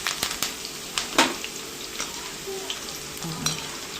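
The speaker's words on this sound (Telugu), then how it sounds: "ఇప్పుడు ఒక గబ్బ వెల్లుల్లి, కొద్దిగా కరివేపాకు ఫ్రై చేసేసుకుని" Garlic and curry leaves crackle and spit in hot oil for a garnish over ivy gourd pakodi, a busy close sizzle with sharp pops scattered throughout and no voices.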